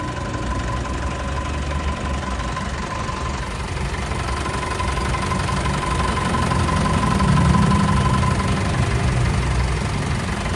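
An Isuzu Travis engine idles steadily after being restarted, a close, continuous low rumble with a faint mechanical knock and hum that swells slightly toward the end.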